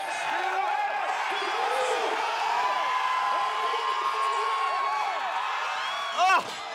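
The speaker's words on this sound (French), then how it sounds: "On écoute la foule, 440 livres." Crowd cheers and shouts throughout a Canadian record attempt at a 440-pound lift during a strongman competition, a steady roar with whoops and a brief louder burst near the end.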